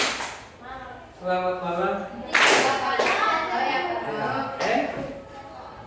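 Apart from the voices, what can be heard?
hand clapping as a greeting signal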